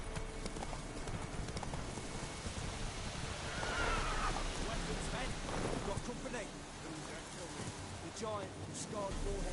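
Horse hooves clip-clop steadily while ridden in The Witcher 3 on the Death March difficulty, with a brief whinny midway and a spoken voice over a constant windy, rain-like bed.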